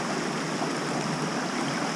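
A small river rushing over stones in the forests of Yakushima, close and loud, a dense unbroken hiss of flowing water with no voices.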